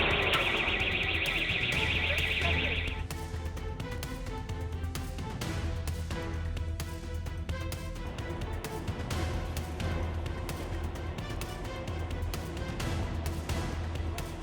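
A store alarm blares during an ATM theft, a steady, loud tone layered over a thumping low pulse that carries through the whole stretch, with a brief higher whine at the start.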